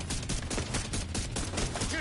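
Rapid, dense gunfire from a firefight in The Division 2, with continuous bursts of shots filling the whole moment at close range and little pause between them.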